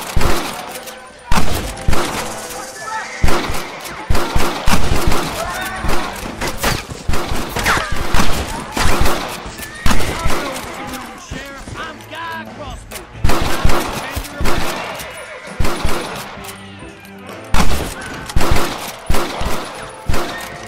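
A shootout in the video game Red Dead Redemption, with loud, dense gunfire: rapid bursts and single sharp shots crack back and forth in waves, mixed with shouted voices.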